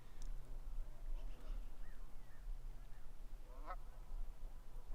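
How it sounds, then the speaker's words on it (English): Canada geese honk from a flock on a river, their calls faint and distant, scattered over a steady low rumble of background noise. "Yeah, those are Canadian geese."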